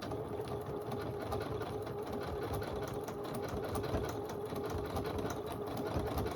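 Sewing machine stitching a quilted poinsettia table runner, a continuous close mechanical whirr with fast, even needle rhythm and no pauses.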